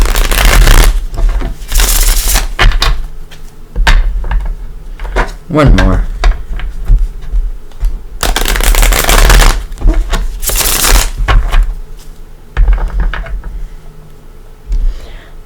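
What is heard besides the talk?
shuffling tarot cards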